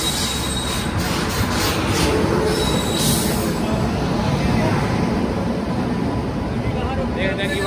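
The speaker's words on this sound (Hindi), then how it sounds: "हाँ जी, आ गई अपनी ट्रेन अमृतसर वाली।" A train bound for Amritsar rolls into the station, its wheels grinding and squealing in a loud, steady rumble with metallic screeches, while people talk nearby.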